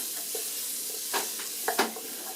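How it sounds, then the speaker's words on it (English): Vegetables sweat in a pot for chicken and dumplings, a quiet constant sizzle with a few brief stirring scrapes and clicks. "And then vegetables start cooking down in there."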